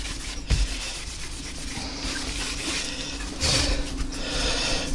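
Grade 0 wire wool rubbed back and forth on a clock's back plate, a steady close abrasive scrubbing with a couple of louder strokes and no talk.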